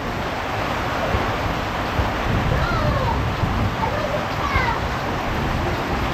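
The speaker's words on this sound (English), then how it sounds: "You hear the thunder, my God." Heavy tropical-storm rain in Naga City, Philippines, a dense continuous roar of downpour with low rumbling underneath, loud and close throughout with no clear break.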